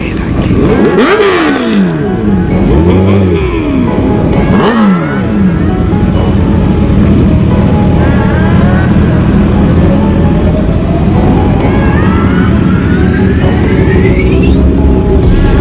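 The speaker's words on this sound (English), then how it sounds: "Motorcycle riding." Motorcycles riding and revving at a Miami bike life street takeover: loud continuous engine roar with several rising and falling revs and passing bikes, a dense crowded mix heard close throughout.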